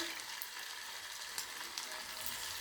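Chicken pieces frying in a pan, a steady close sizzle and crackle throughout with a couple of brief sharper pops as pieces go in.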